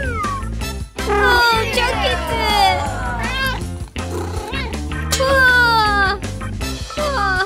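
A child loudly and repeatedly meows, imitating a cat with drawn-out, wavering cries in several long bursts.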